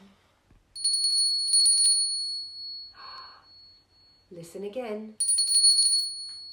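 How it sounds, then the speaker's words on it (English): Two bursts of a small, high bell ringing brightly, separated by a short spoken phrase and a brief sung or spoken tone. "it's the little bell"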